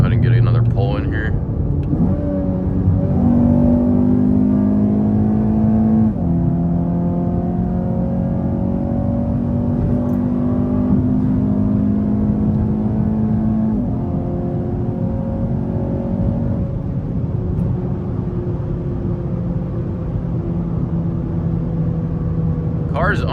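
A modified 2022 Acura ILX A-Spec accelerating hard from inside the cabin, its engine droning upward through several gear pulls with brief dips at each shift, loud and close, and a voice speaking briefly over it.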